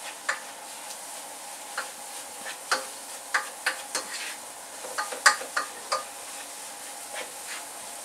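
Egusi soup cooking in a pot, with a soft frying hiss under irregular scraping and tapping as a spoon stirs and turns it, close and moderately loud with no speech.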